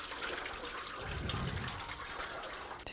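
Coolant drains from the engine of a 2004–2009 Audi A4 during a timing belt and water pump job, a continuous faint splashing gush into a drain bucket that swells briefly midway.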